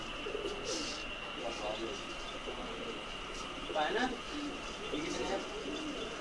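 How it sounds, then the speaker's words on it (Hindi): Fancy pigeons at a pigeon shop in a Jeddah animal market coo repeatedly in soft, throaty bursts over a steady background hum, with faint distant voices mixed in. "फैंसी कबूतर की"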